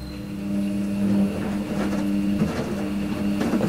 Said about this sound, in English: Now if I start the washing machine